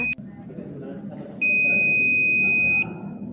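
A brief beep, then a loud, steady electronic buzzer tone, triggered when shadow covers a light sensor in a physics project, holds for about a second and a half before cutting off, over low background room noise.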